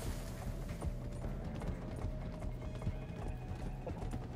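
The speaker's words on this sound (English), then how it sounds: "What horse is this guy using?" Horse hooves clip-clopping at a gallop in the Red Dead Redemption 2 video game, a steady rapid rhythm running throughout with faint mechanical clatter underneath and no talk.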